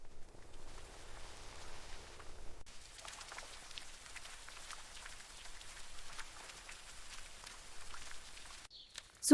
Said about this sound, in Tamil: இந்த மழை நெல்லுக்கு ரொம்ப நல்லது.